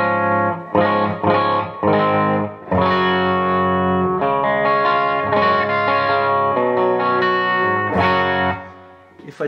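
Electric guitar played through a bitey Digidesign Eleven Rack patch emulating a Royer R121 ribbon microphone, distorted and laced with reverb and chorus, ringing out sustained chords and single notes loudly, alone, before fading at the end.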